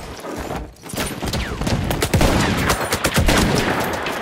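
Rapid machine-gun bursts in a war video game, dense overlapping shots with a loud, continuous crackle that briefly dips near the start before resuming steady fire.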